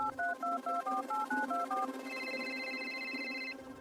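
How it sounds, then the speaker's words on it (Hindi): A phone call is placed as a rapid run of about ten short keypad dialing tones plays, followed by a steady ringback tone while the line connects. "बिल्डिंग में नीचे उतरकर मैंने रीना को कॉल किया।"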